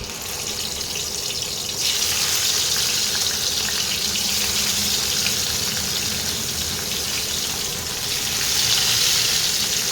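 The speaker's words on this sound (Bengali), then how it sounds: "সর্ষের তেল দিয়ে মাছগুলোকে এবারে ভেজে নেবো ভালো করে" Parshe fish fry in hot mustard oil, a loud dense hiss of sizzling that swells after the fish go in and stays constant throughout, no speech.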